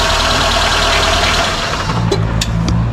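A Dacia Sandero engine running steadily just after its battery was replaced, a continuous close, loud mid-pitched hum with faint rattling knock, alone without speech.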